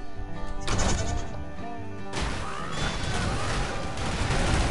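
Sheep in a Skylanders video game bleat loudly in quick repeated cries, with crashing hits from the game mixed in over a short busy stretch.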